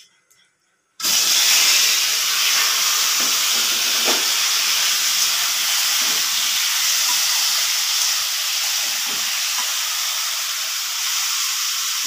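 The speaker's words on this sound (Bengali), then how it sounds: "এবার আমি গাঁঠিগুলো ভেজে নেব।" Food sizzles loudly in hot oil seasoned with bay leaves and nigella seeds, starting abruptly after a second of quiet and holding a steady, close, bright hiss throughout.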